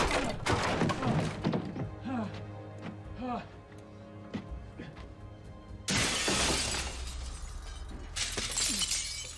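Glass shatters and breaks in a scene from a supernatural TV drama, several sharp crashes and thuds that get louder and denser near the end, with people talking throughout.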